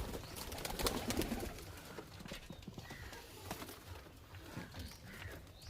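Kalshira pigeons in a loft make faint, low cooing. Soft rustles and scattered clatter from the birds shuffling about are heard at a distance, with no talk over them.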